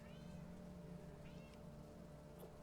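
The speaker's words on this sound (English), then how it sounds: "Scamper, why are you meowing so much" A cat meows repeatedly at close range, drawn-out cries over a steady low hum, with no talking.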